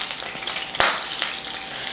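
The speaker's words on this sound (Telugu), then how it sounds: "పన్నీర్ ఫ్రై అయిపోతూనే ఉంది." Paneer shallow-frying in a pan with a batter of peppercorn powder, rice flour, peanut powder and cornflour sizzles steadily up close, with one sharper crackle and a few small pops, no talk.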